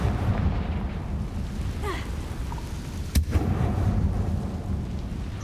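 A Confringo spell blast in the Hogwarts Legacy video game: a single sharp crack near the middle, rising out of a dense, rumbling, stormy bed of low noise that runs throughout.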